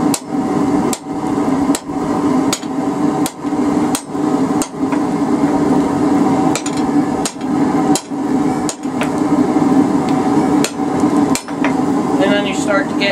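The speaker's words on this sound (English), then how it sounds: "use the cross pin and the edge of the anvil. Just kind of slowly fuller it all the way out." Hot steel being fullered out slowly with the cross pein of a hammer over the edge of an anvil while forging a feather incense burner: a steady run of sharp, ringing metal strikes, close and loud, about one blow every second.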